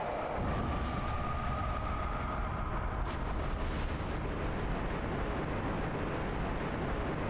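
A deep rumbling blast in Dark Souls Remastered, a heavy roar that swells and sustains for several seconds with a sharper burst partway through, loud and continuous with no speech.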